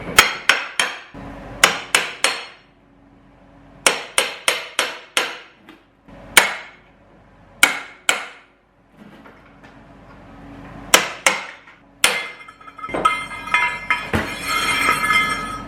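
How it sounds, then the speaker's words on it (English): A hammer drives old carbide out of an Arctic Cat snowmobile ski against a steel dolly, loud ringing metallic blows in quick clusters separated by pauses, close and sharp, ending in a clattering rattle. "Slide that underneath, and I'll just pound the old carbide out."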